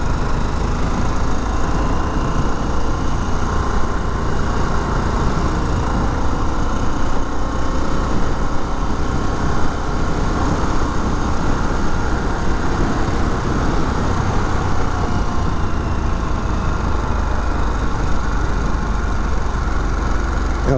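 A 2021 Harley-Davidson Sportster S, a water-cooled motorcycle, runs steadily while riding in B mode on a ridged road under repair; a continuous, fairly loud engine drone holds for the whole stretch with no talking.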